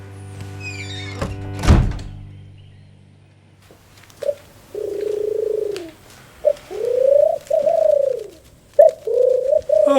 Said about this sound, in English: that's a very lovely bird you got there